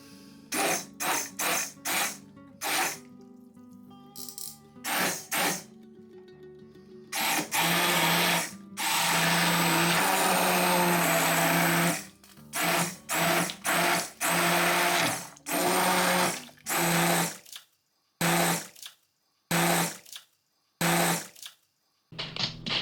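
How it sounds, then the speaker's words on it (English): Kitchen blender pureeing celery, leek and onion into a Greek lemon chicken soup, running in a long steady whir from about 7 to 12 seconds, with short on-off pulses before and after. "I'm just going to blend it a little bit"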